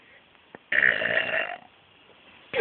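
A baby lets out a burp, a short broadband rasp lasting under a second, close and fairly loud, with quiet room sound around it and another brief noise at the end.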